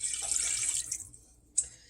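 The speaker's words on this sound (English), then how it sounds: "Then I'm going to add 1/2 cup of water." Half a cup of water poured into a pot of fish chowder with clam juice, a bright splashing trickle lasting about a second, then quiet before a short second splash.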